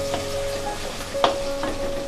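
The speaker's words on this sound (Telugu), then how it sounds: "ఆనియన్ కాస్త వేగనివ్వాలి. ఇలాగా ఆయిల్లో కొంచెం వేగినాక దాంట్లోకి 1 టీ స్పూను అల్లం వెల్లిపాయ పేస్టు" Onions with ginger garlic paste fry in hot oil, a soft steady sizzle with a few brief clinks of stirring, heard without talk.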